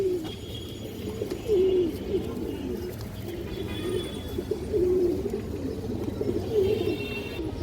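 Large, blackish pigeons coo in a repeated low rumbling pattern, several close, throaty phrases spaced a couple of seconds apart over a steady background hum.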